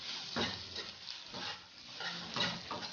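Small pieces of chicken breast for sisig fry in a pan with a steady soft sizzle, broken by a few louder bursts as they are stirred and scraped, close and fairly quiet, with no talking.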